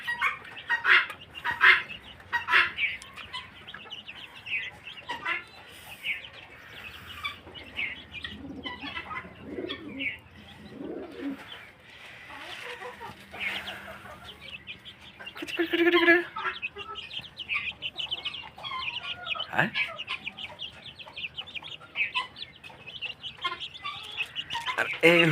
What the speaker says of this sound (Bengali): আমার চীনা মুরগির ছানাগুলো দেখেছিলেন